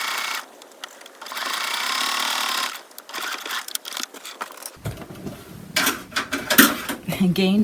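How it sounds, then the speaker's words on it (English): A sewing machine stitches elastic into a doll's sleeve, running in a steady close whir at first and then in short stop-start bursts, with a voice speaking briefly. "trying to sew the elastic into the sleeve."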